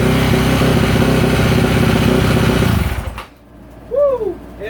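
A 2024 Yamaha YZ450F motorcycle engine runs loud and close with its choke on, a steady rough idle for about three seconds before cutting out abruptly, followed by brief quieter sounds.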